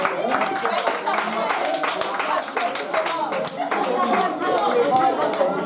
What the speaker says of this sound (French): On applaudit pour lui quand même.